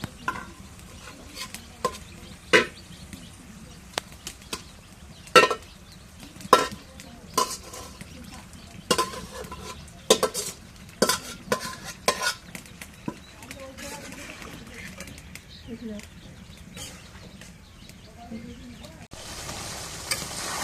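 Fish frying in spice masala in a pan, a continuous sizzle broken by frequent sharp scrapes and taps of a spatula, close, with faint voices and birds in the background.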